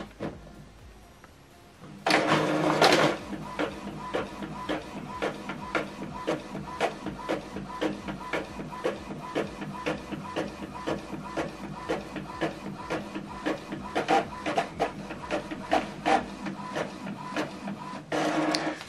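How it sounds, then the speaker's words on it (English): An Epson printer prints a document: after a brief quiet start it whirs into action with a rapid, even run of mechanical clicks and a feed hum that keeps going throughout. "So this is the document we scanned and printed it out."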